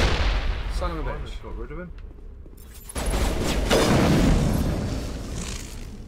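A grenade blast in the video game Mass Effect, a loud booming burst of broadband rumble that rises abruptly midway and lingers, heard after a voice swears over the game audio.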